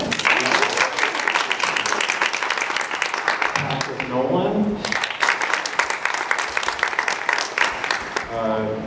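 Loud, dense applause at a youth awards ceremony, sustained clapping that carries through as names are read out over a microphone.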